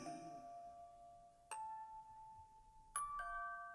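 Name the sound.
school bell ringing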